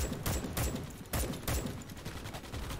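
Sustained automatic gunfire and bursts of shots from a squad fighting bugs in the Starship Troopers: Extermination video game, dense and continuous with loud repeated volleys throughout.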